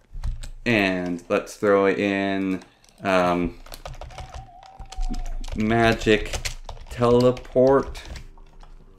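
Keyboard typing while searching for a name tag in modded Minecraft, soft clicks scattered under loud, near talk that fills most of the stretch.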